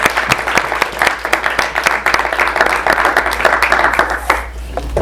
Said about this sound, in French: tous nos applaudissements pour Élise